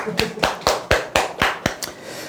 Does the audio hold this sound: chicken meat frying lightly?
no